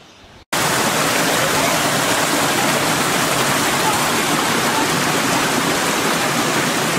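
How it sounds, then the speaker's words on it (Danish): Denmark's largest waterfall in Døndalen forest on Bornholm roars as a loud, steady broadband rush of falling water, close and continuous after a brief quiet start. "Det her er Danmarks største vandfald ved Døndalen."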